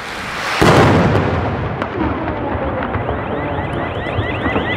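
A Polish firecracker, part of a ten-shot Kreiselblitz setup, goes off with one loud, sharp blast close by, followed by a long rumbling echo and crackling decay that slowly fades.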